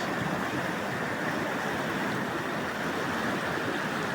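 The Cheremosh river in the Carpathians, slightly swollen after rain, rushes past as a constant, fairly loud broadband roar with no voices.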